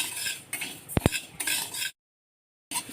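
Urad dal being dry-roasted and stirred in a pan while making metkut, with scraping and clinking of a utensil against the pan, two sharp knocks, then a gap of silence before the stirring resumes.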